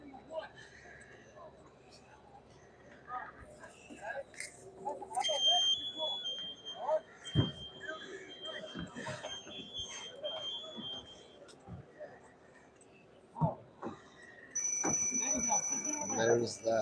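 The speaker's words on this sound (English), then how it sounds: "there's that fiber alert or low air alarm" A firefighter's breathing apparatus low-air alarm goes off during interior operations at a drywall breach, heard as piercing repeated electronic tones and whistling that rise over background clatter, breathing and whispered talk.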